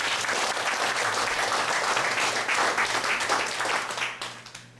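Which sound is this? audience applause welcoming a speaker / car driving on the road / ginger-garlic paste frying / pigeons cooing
audience applause welcoming a speaker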